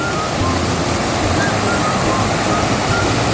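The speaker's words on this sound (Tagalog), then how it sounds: "Pag malakas ang tubig talagang umaapaw sa creek" A loud, steady rush of a river flowing high in Davao, Philippines fills the scene, constant and broadband with no pauses.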